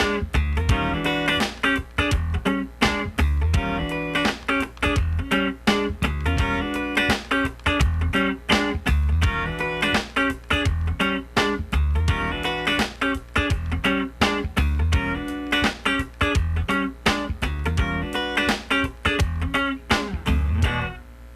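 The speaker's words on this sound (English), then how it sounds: "Now let's do the exact same part with a swing feel" A funk rhythm guitar part with a swing feel plays on its own, dense and steady, with choppy muted strums and sharp accented chord stabs that keep a lilting groove going for about twenty seconds.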